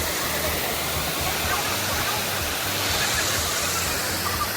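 A waterfall at a hot spring resort in Calauan, Laguna roars as a loud, steady broadband rush of falling water, constant and close throughout.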